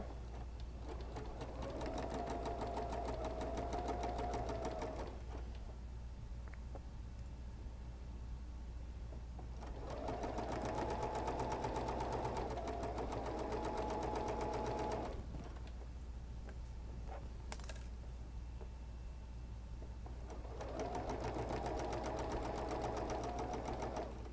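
A sewing machine stitches quilt blocks in three separate runs of fast, even whirring, each lasting several seconds, with quieter pauses between them and no talking.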